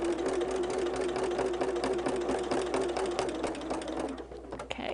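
A sewing machine stitches quilt fabric for a holiday quilt, a continuous close mechanical hum with rapid needle ticking that runs steadily for several seconds before easing off at the end.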